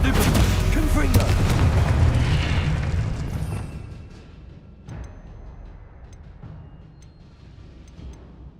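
A Confringo blasting spell detonates in Hogwarts Legacy combat, a loud booming explosion rumbling for a few seconds before fading, followed by quieter battle sounds and faint ticking spell effects.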